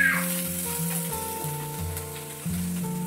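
Onion paste hits hot oil with koi fish in a pan, giving a steady close sizzle and crackle with shifting tones from stirring, continuous and fairly loud, no talking.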